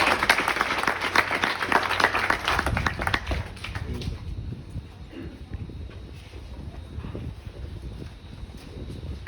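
Outdoor audience applause for Norma Brown at the Birches groundbreaking at Perry Farm Village; brisk clapping for a few seconds that fades away, leaving wind rumble on the microphone.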